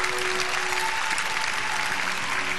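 A church congregation applauds the Lord in steady, dense applause throughout, fairly close and with no talking over it.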